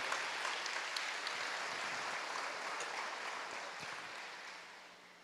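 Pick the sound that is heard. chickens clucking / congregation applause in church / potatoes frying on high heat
congregation applause in church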